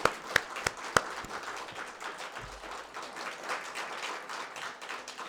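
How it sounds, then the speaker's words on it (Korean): Church congregation applauding during a Sunday service, a few sharp isolated claps at first, then faint scattered clapping continuing softly. "박수로 격려하겠습니다."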